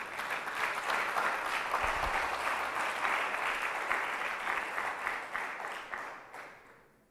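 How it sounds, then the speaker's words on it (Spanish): A church congregation gives steady, loud applause that holds for several seconds and then fades away toward the end. "¿Cuánto le dan un fuerte aplauso a Dios?"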